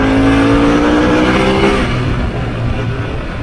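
Engine of a 2021 Harley-Davidson Pan America motorcycle on 50/50 tires, roaring loud and close in a steady rev with a falling tone, heard alone.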